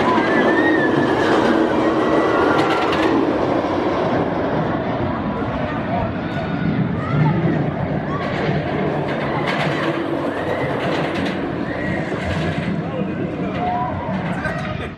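An RMC hybrid roller coaster train, the ARIEFORCE ONE at Fun Spot Atlanta, thunders past with a steady, loud rumbling roar and rattling wheels that fill the whole stretch, while a person talks over it.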